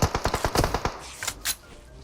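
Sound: gunfire from the video game PUBG Mobile

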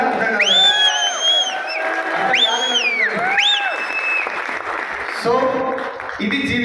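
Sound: audience clapping

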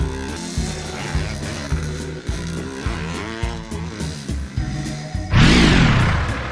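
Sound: scooter engine

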